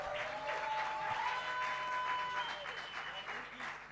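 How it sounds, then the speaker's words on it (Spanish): Audience applause at a live music night at a bar, steady clapping filling the room for a few seconds with some background sustained tones, fading slightly toward the end. "Un aplauso para Delphi y para Lucas también."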